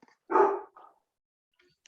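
A pet dog barks remotely during an online meeting, one loud full bark followed by a softer short yelp, then a faint sharp sound after a pause, with no talk over it.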